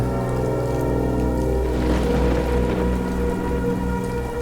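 Steady heavy rain hisses continuously alongside a deep low rumble, dense and constant throughout, with no voices, in an animated Bengali horror story.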